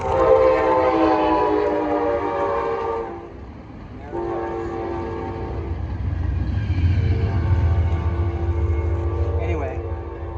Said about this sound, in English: Obviously, trains.